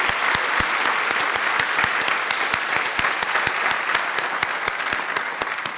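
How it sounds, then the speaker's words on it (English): Loud, sustained applause from a graduation ceremony crowd at a university flight academy, dense clapping with sharp individual claps standing out, steady throughout. "let's give them a round of applause"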